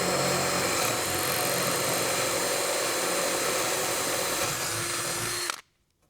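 A power drill with a slightly larger bit runs continuously and loudly through material for a Jeep seat-delete platform build, a steady high whine that cuts off abruptly near the end.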